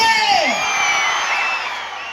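A festival crowd at a grand musical night for the Venkatagiri Sri Poleramma Jatara whoops and shouts loudly on cue, a sustained roar of voices that swells at the start and slowly eases off.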